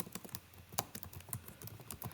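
Rapid keystrokes on a computer keyboard, with irregular close clicks and taps at a quiet, steady typing pace and no voices.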